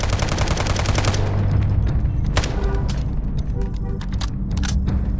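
Rapid automatic gunfire from the video game Delta Force, dense bursts that fill the opening and then continue as scattered sharp shots over a steady engine-like drone.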